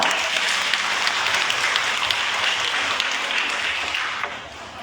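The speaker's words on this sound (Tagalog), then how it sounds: "Mabusog nga palakpak." A Catholic church congregation at a Solemnity of Mary Mother of God Mass gives a hearty round of applause, a steady wash of many hands clapping that fades slightly near the end.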